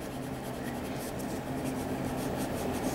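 Colored pencil burnishing on paper: continuous soft rubbing strokes, close and quiet over a steady low background hum.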